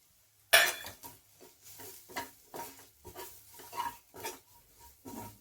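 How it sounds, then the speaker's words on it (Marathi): Basic spices with red chili powder frying in a pan for spicy katvada, heard as an initial clatter then repeated stirring scrapes and a soft sizzle, moderately close and with no talking. "एक मिनिट मसाले तळू द्यायचे आणि बटाटा घालायचा."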